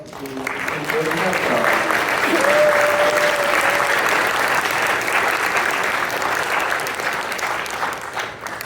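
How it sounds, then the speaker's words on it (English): Applause from an audience at a tech presentation swells into a broad, sustained roar of many hands clapping, steady for several seconds before easing off, with a brief voice and a tonal whistle faintly audible early on. "Let's give a warm round of applause to"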